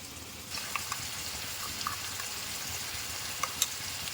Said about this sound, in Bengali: এবার আলুগুলোকে ভেজে নেবো আলুগুলো ভেজে নিচ্ছি